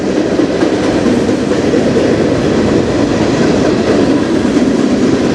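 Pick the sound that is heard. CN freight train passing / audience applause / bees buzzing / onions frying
CN freight train passing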